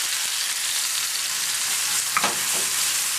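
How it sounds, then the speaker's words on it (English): Garlic and cilantro sautéing in hot olive oil, a continuous bright hiss of sizzling close up, with a brief stir or clink near the end and no voices. "saute now half of the garlic, and of course also always using olive oil"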